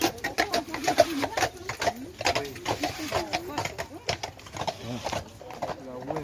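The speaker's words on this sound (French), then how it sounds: "c'est des chevaux de trait en tout cas, ça c'est sûr" Draft horses passing, hooves clip-clopping in an uneven rhythm under frequent nearby talking, with some squeaky wheel or bird-like chirps mixed in, fairly faint overall.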